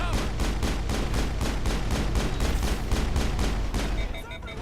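Dense, continuous gunfire rattles through a video game shootout, rapid bursts overlapping with steady loudness throughout and a brief tonal effect near the end.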